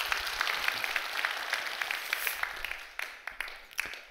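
A church congregation applauds at a moderate distance, a soft, steady wash of clapping lasting a few seconds and gradually thinning out toward the end.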